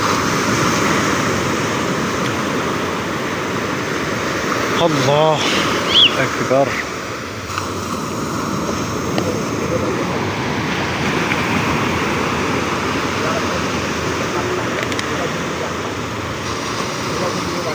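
Sea waves crash on a beach at Kerteh, Terengganu, Malaysia, a steady close roar of surf and wash with brief bursts and faint voices underneath.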